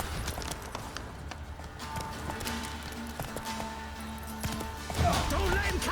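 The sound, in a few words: horse galloping in the video game The Witcher 3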